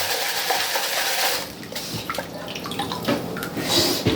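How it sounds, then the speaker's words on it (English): River rocks are rinsed in a gold prospecting pan, giving close, steady sloshing and splashing water with small clatters and drips, moderately loud and without talk. "Washing off the rocks from the river."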